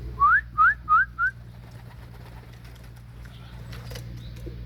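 At a pigeon loft for racing birds, four short rising whistle-like calls come in quick succession near the start, followed by quiet ambient background with faint low hum.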